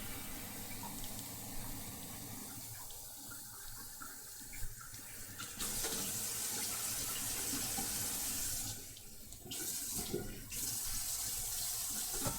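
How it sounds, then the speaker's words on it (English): Tap water runs into a cooking pot in a home kitchen, a steady loud gushing stream that shifts in tone as the flow changes. Brief pauses and surges break it up, and no one speaks. "I'm getting our water to a boil."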